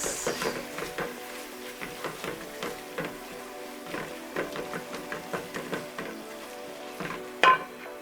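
Grated carrot fries in a pan while being stirred, a soft sizzle broken by repeated scraping and tapping strokes of a utensil in an uneven rhythm, with a sharper clack near the end.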